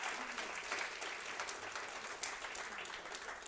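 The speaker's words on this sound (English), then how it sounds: "please give a round of applause to all of our participants." A room full of people applauding participants at a court lunch-and-learn event, a dense, continuous patter of clapping that holds steady throughout with no voices on top.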